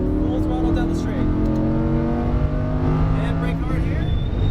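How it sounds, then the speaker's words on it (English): A Lamborghini Huracán on a racetrack accelerates at full throttle down the straight, its engine note climbing steadily through the revs, loud and close, for several seconds. "Unwinding the wheel and full throttle down the straight."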